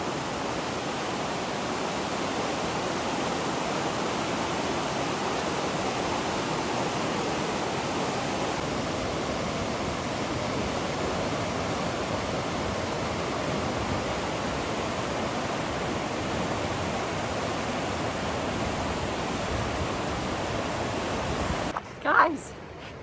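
Flowing river water beside a big rock cliff face in Grandjean, Idaho: a steady, broadband rushing that stays constant and close throughout, ending with a brief bump of handling or movement at the very end.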